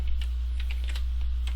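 Quick, irregular key taps on a computer keyboard, close and moderately loud over a low steady hum, with no talking.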